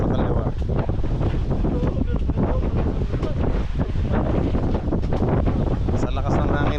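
Strong wind at sea aboard a boat as a storm approaches, heavy constant gusting and buffeting against the microphone, loud and close with water sounds mixed in.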